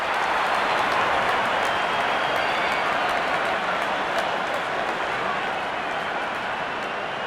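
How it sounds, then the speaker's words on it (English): Dense, steady applause from a stadium crowd in a cricket video game, a broad wash of clapping and cheering noise that holds at a constant level throughout. "Wonderful 50 and the crowd applauds."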